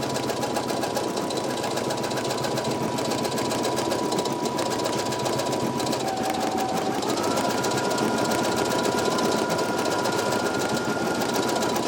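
A Brother embroidery machine, PE900 or NQ1700E, stitches out a design in a continuous, close, rapid mechanical chatter with an even rhythm that holds through the whole stretch.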